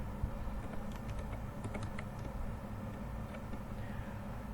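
Clicky typing on a computer keyboard while entering data-analysis code in a Jupyter Notebook, with steady keystrokes and a few sharper clacks over a constant low background hum.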